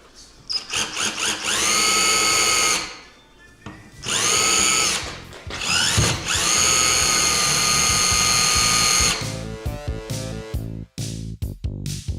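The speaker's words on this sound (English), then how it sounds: "I'm going to drill that out, drill these rivets out" A drill bores out the rivets on the coin door of a Galaga arcade cabinet, whining loudly in three long sustained bursts with brief pauses between them, then rattling and clicking as it winds down near the end.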